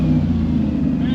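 A third-generation Camaro fitted with an LT1 V8 and a sticking throttle runs close by, a loud, steady engine rumble with no clear change in pitch.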